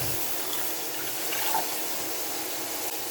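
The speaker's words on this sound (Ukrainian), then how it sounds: "Рис я покладу в ковшик, заливаю водичкою" Water pours steadily over rice in a small saucepan, a soft continuous hiss of running liquid at close range with no talking.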